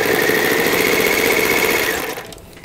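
An older vintage sewing machine motor runs with a fast, steady mechanical rattle and hum, close and loud, then winds down near the end.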